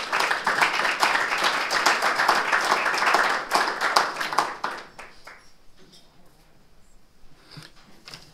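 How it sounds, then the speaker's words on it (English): A lecture audience claps for about four seconds, dense and fairly close, then the applause quickly thins out into a few scattered claps and room quiet. "Please give him a round of applause."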